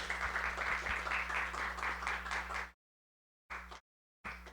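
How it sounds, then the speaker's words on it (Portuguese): Audience applause for panel participants closing a conference event on ESG and eco-innovation: steady, dense clapping for under three seconds, then abrupt silence broken by two short clipped bursts. "palmas para os nossos participantes."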